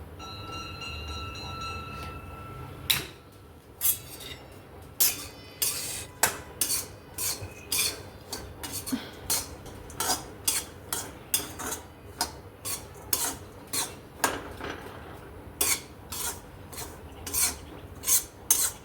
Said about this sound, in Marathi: आता ही चटणी आपण थोडं तेल टाकून भाजून घेऊया